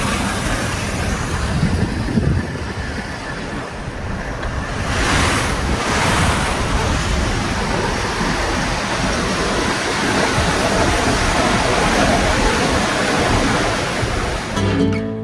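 The Mara River in the Serengeti rushes past in a loud, steady roar of flowing water, mixed with gusty wind buffeting the microphone throughout.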